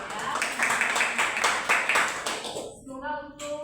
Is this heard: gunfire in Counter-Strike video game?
no